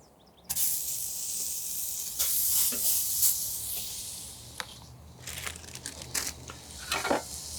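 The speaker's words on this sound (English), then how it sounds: "so let's get the burgers on" Burgers go onto the hot grate of an Ugly Drum Smoker with a sudden loud hiss and sizzle, followed by bursts of spitting fat and scraping as more patties are added nearby.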